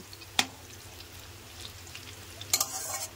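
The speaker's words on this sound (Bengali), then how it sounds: "কাঁকরোলটা আমার নেড়ে চেড়ে ভাজা হয়ে গেছে" Pointed gourd sizzles softly in oil, with a sharp clink of a spatula near the start and a cluster of scraping stirs toward the end over the low, continuous frying hiss.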